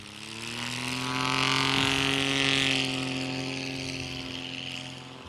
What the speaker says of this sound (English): That IO 370 pumping out the horsepower tonight